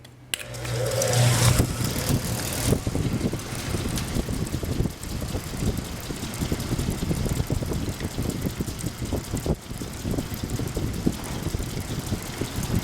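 A freshly greased electric fan runs inside a 1966 Chevrolet C10, giving a steady, close whirring rush of air with wind buffeting on the microphone, continuous and fairly loud throughout with no talking.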